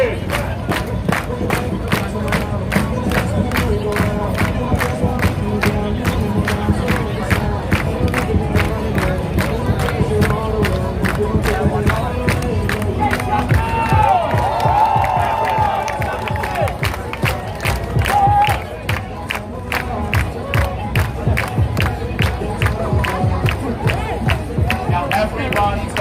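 A large outdoor crowd in Times Square, New York City, claps in a fast steady beat and chants loudly together, a dense continuous roar of voices and hands.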